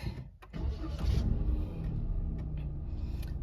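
A Toyota Wigo's engine cranks briefly and catches, settling into a low steady idle close by with no talking.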